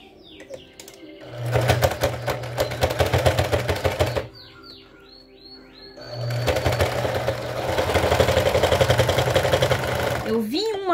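A sewing machine stitches lace for a traditional racerback bra, running in two loud bursts of rapid steady stitching separated by a brief pause, including a short backstitch.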